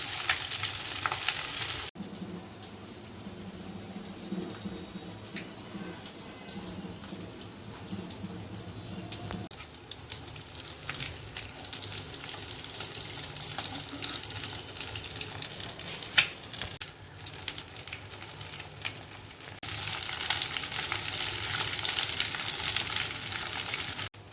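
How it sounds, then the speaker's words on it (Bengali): Breaded egg pieces sizzle and crackle in hot oil, a continuous bubbling hiss that swells louder at times, with occasional clinks. "এর মধ্যে ডুবিয়ে ব্রেডক্রামে দিয়ে ভাজছি"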